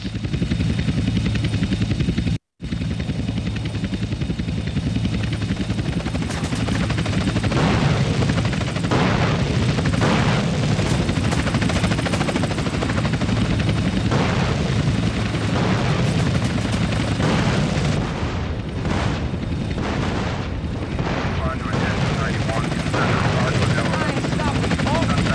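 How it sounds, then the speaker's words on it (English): Helicopter rotors from GTA San Andreas thud loudly and continuously through the scene, with booming explosions and bursts of game gunfire breaking in; voices talk over the din. "Two agency choppers coming in on an intercept. Can you see them? Yeah. Shoot them down!"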